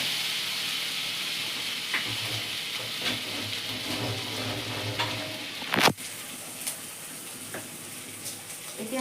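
Ginger slices frying in oil over a low flame for a Bengali shukto, giving a steady soft sizzle with a few light stirring clinks and one sharp knock near the middle.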